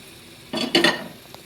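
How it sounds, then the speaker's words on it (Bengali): Prawns being stirred in boiling water in a pot, a short burst of stirring with a ladle knocking against the metal, loud and close, then quiet bubbling. "একটু নেড়ে চেড়ে দিলাম"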